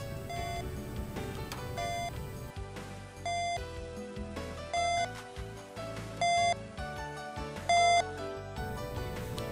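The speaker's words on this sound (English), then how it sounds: "you will hear a series of beeps that increase in volume as the volume of Lyric increases" Volume beeps from a Lyric hearing aid sound as short, clear tones about every one and a half seconds, each a step louder than the last, over steady background music.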